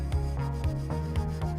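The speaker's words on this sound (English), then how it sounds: "Using this kind of a brush for our pans, we do the final cleaning" A brush scrubbing a sooty frying pan clean, rhythmic back-and-forth rubbing strokes repeating about every quarter second, close and steady, with no talking.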